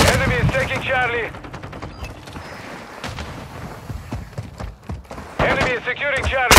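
Rapid bursts of video-game gunfire crackle in dense, repeated volleys through a military shooter match, with radio-style voice callouts heard over parts of the action.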